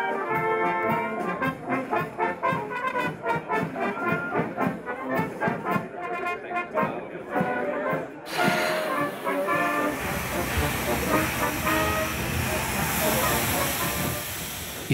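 Steam locomotive train running on an Austrian railway, heard as a steady, loud rumble and hiss that builds and becomes continuous, with rhythmic clatter from the rails.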